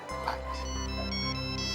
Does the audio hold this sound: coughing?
no